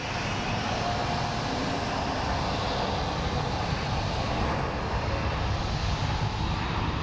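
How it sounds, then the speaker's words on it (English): Southwest Airlines jet engines roar steadily at Phoenix Sky Harbor airport, a loud, continuous broadband rush that dominates without pause and has no talk over it. "Shut up, Southwest. Turn down your engines."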